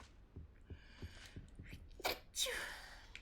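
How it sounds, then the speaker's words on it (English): Faint soft taps give way to a couple of breathy bursts, a small sneeze-like snort followed by a fuller sneeze, fairly quiet and close. "I'm gonna sneeze again"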